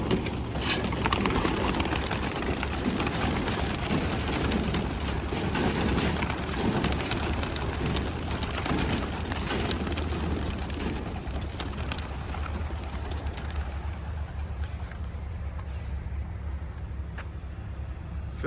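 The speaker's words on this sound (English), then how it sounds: "Fill the sky with birds." A flock of racing pigeons is released on a training toss, with a dense rush of wingbeats and fluttering close by, loud and continuous, fading slightly toward the end as the birds move off.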